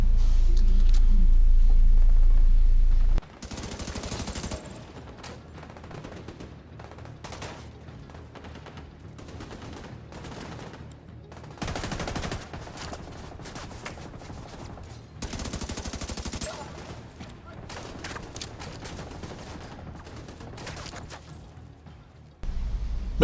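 Gunfire in the video game The Division 2, with rapid automatic bursts and single shots coming in several separate volleys over a low rumbling game background, fairly loud and without talk.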